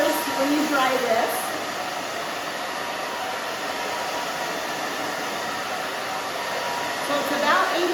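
A handheld blow dryer roars steadily and close while drying short hair being styled into a spiky cut, a constant airy whoosh with slight changes as it moves back and forth.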